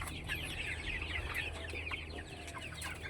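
A flock of hybrid tiger chickens, grown to about 1.5 kilograms, clucks and chatters on a small farm, overlapping soft calls at moderate distance over a low background hum, with no talking.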